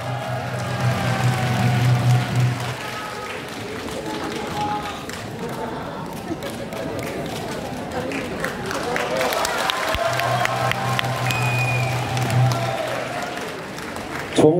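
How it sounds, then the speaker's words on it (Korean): A political party rally crowd breaks into sustained applause to welcome a newly elected senior council member to the stage, a steady wash of clapping lasting the whole stretch, with amplified voices and music heard briefly over it. "여러분, 뜨거운 박수로 환영해 주시기 바랍니다."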